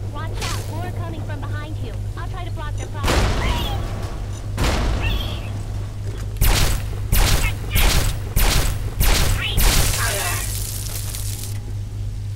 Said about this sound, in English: this metal blaster, maybe I should just be using it for a while